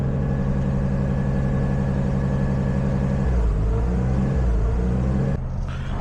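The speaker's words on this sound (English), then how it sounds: "with the car running, we're already having errors with it just idling." A Skyline's engine idles roughly while its new wiring throws errors, a steady low rumble that shifts and wavers midway, then briefly drops away near the end.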